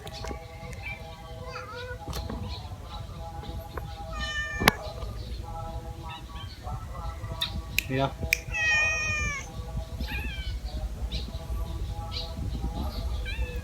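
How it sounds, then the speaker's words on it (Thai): A cat up on a hill in Lamphun, Thailand, gives several short meows amid outdoor background noise, with people talking nearby. "แมวบนเขา"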